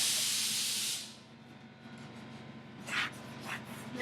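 A Mystic spray tan booth flushes itself out with a loud, steady hiss of spray that cuts off after about a second, leaving a low mechanical hum and a few softer hissing bursts later on.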